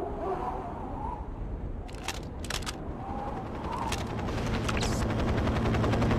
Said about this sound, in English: Hello, helicopter.